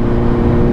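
A Kawasaki Z900 motorcycle with a full aftermarket exhaust system runs loud and close, a rough, steady engine roar filling the short moment.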